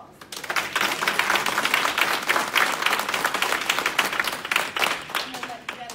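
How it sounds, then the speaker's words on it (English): Dense, steady round of applause from the crowd at an Atlanta meet and greet, loud and close, continuing for several seconds before easing off at the end. "I think you all deserve a round of applause"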